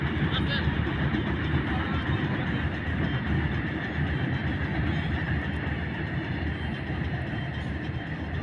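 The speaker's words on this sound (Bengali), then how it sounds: "সম্ভবত কয়লা নিয়ে যাচ্ছে ট্রেনে করে।" A freight train carrying coal rumbles past near the Torsa river, a steady continuous roar and rattle of wagons, with someone talking over it.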